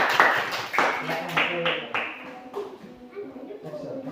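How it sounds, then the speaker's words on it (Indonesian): Schoolchildren in a classroom clap together in a quick rhythmic pattern, sharp close claps mixed with their chanting voices. "Kita tepuk dulu dari kelompok 1 kelas 2."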